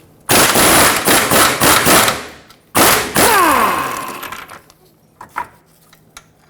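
An impact wrench rattles loose the lower control arm bolt on a 2003-2012 Chevrolet Colorado 4x4 using a 24mm socket, with loud, close hammering bursts, a pause, a long burst that spins down, and a few clinks after.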